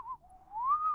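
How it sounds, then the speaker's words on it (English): Someone whistles a single sustained tone that slides slightly down and then rises, with a smooth theremin-like glide, clear and alone. "Whistling is, you know, very clear and is always pretty easy"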